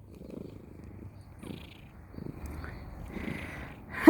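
A cat purrs quietly up close in Chimayo, a soft, steady low rumble with faint breathy pulses and no talking over it.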